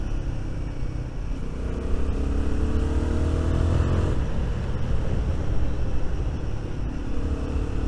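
A Royal Enfield Guerrilla 450 motorcycle is ridden down country lanes, its engine droning steadily close by, rising and falling in pitch as it accelerates and eases off under continuous wind rush.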